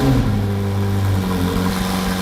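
A McLaren supercar, either a Senna GTR or an Elva, idles and revs steadily close by, a deep, constant engine drone with rising harmonics as a drive gets under way.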